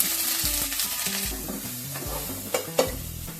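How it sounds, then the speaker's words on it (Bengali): A whole cauliflower fries in a pan until reddish-brown, giving a steady close sizzle with occasional stirring clinks, over a soft tonal melody in the background. "এটাকেও আমি একটু লাল লাল করে ভেজে নেবো"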